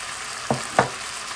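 Meat frying in a pan, with a steady close sizzle broken by two brief louder bursts, likely from stirring or turning the pieces, and no talking.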